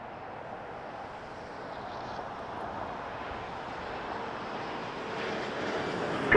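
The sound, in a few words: Porter airliner taking off from runway 24 at Toronto Pearson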